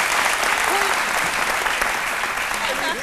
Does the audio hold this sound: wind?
no